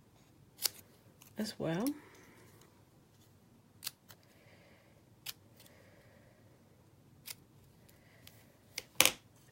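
Scissors snip paper samples at a craft table in short, sharp clicks spaced across the clip, with a few soft words spoken quietly between the cuts.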